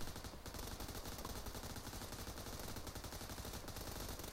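Gunshots in PUBG Mobile, heard as a faint, dense stream of rapid automatic fire under steady noise, continuous throughout with no pauses.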